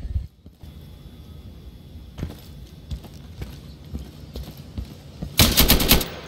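Rifle fire in the video game Insurgency: a few separate single shots spaced out, then a loud rapid burst of shots close by near the end, with no talking.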